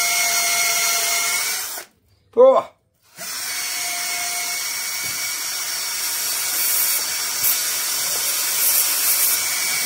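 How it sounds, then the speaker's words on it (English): A power drill with a brush whirs loudly and continuously cleaning out an engine cylinder on a Standard Sandhurst not run in 30 years, stops briefly while someone says a word, then starts up again and keeps running. "I think what I'm going to do is get a drill brush in here now"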